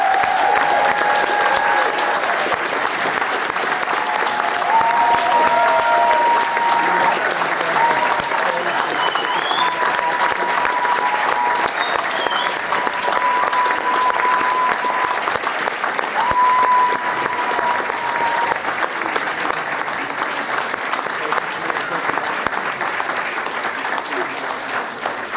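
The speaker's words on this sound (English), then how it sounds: "let's give them all a big hand of applause" Sustained applause from a commencement audience for standing chemistry graduates, steady and dense throughout, with crowd murmur and a few faint voices mixed in.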